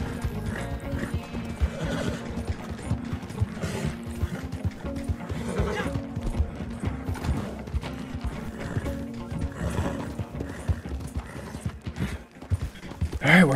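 Horse in the Red Dead Online game, neighing and whinnying with clip-clopping hooves over a dense, busy game soundscape that stays steady and fairly loud throughout.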